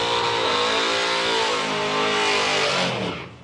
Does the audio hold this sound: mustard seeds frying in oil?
no